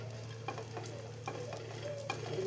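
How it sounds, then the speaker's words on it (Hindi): Semolina being stirred and roasted in a pan for suji laddu, a close scraping stir that repeats in regular strokes over a soft dry sizzle, with no talking. "देखिए, इसको हम भून के तो उतार देते हैं थोड़ी देर में।"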